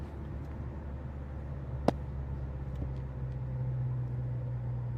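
Toyota Hilux pickup driving on a road in Alkhobar, Saudi Arabia, a steady low engine and road rumble heard from inside, with one brief sharp click partway through.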